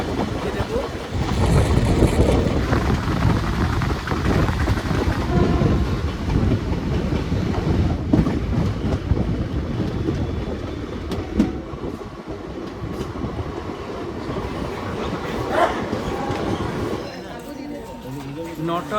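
A passenger train rumbles along toward Durgapur Junction with a loud, continuous roar and rhythmic rattling of the carriages, close and sustained throughout.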